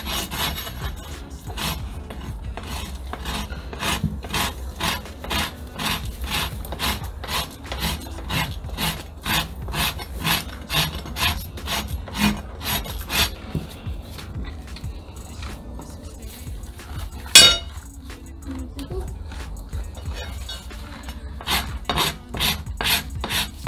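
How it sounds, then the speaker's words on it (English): A farrier's rasp is drawn over a horse's hoof in steady, rhythmic strokes, a close, dry scraping that repeats through the clip with one louder knock near the end and no talking. "I'm just going to grab my rasp and I'm going to rasp it downwards that way"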